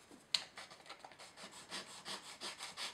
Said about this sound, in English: So I'm going to start to sand an angle in there.